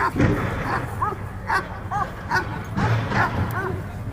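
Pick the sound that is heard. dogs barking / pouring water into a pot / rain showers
dogs barking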